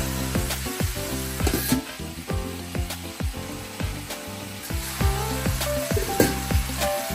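Garlic and onion fry in cooking oil for pork menudo, with a loud continuous sizzle and crackle close to the pan, broken by occasional clinks and scrapes of a utensil and a steady underlying hum.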